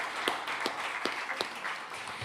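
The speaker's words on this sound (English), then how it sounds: "How about one more round of applause for David Easterling" Audience applause after a live set at the WDVX Blue Plate Special, a broad, steady wash of many hands clapping at moderate distance, with a few sharper individual claps standing out.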